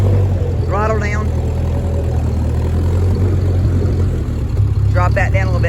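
A 1946 Ford 2N tractor engine idles after being throttled down, a loud, steady low rumble close by, with brief voices talking over it twice.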